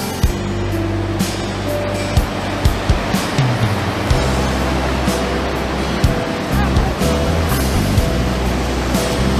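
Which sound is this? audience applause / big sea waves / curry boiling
big sea waves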